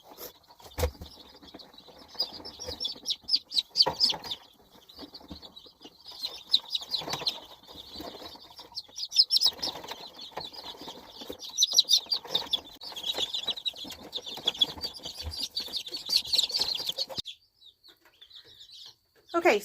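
Week-old chicks chirp busily and continuously at high pitch in a brooder, with rustling and light handling noises among the peeping.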